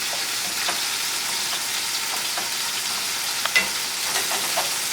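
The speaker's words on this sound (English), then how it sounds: "And in the meantime, I just keep stirring." Four-cheese risotto is stirred in a hot pan, giving a dense continuous sizzle and bubbling with occasional soft spoon scrapes and taps, loud and close, with no speech.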